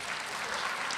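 Audience at a conversation event breaks into applause, a brief, even burst of many hands clapping at moderate volume with no voices over it.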